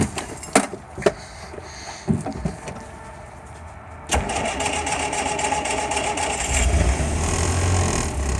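A 1961 Land Rover Series II engine cranks with a freshly rebuilt starter, after a few knocks and clunks, then catches at about four seconds and settles into a steady, close running idle.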